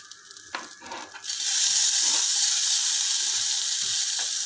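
Potatoes, tomatoes and peas tip into a hot pan with ginger for savory broken-wheat porridge, a few clattering drops followed by a loud, steady sizzle close up.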